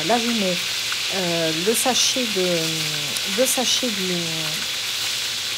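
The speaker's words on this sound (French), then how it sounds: "le sachet d'épices et le chorizo un petit peu à griller" Chorizo and a spice packet frying in a paella pan, a steady loud sizzle running throughout beneath a voice speaking close by.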